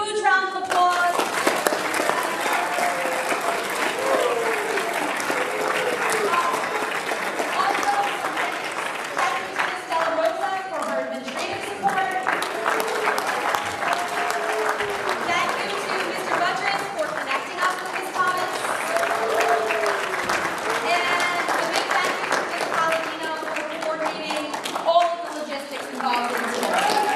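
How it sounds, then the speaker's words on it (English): Audience applause at a high school women's history presentation, with sustained clapping mixed with cheering and voices throughout a long, lively stretch. "let's give Ms. Thomas a huge round of applause."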